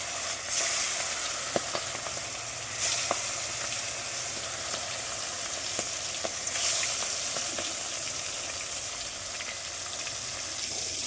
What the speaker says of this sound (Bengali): আস্তে আস্তে মাছগুলো ভেজে নেব বেশ লাল লাল করে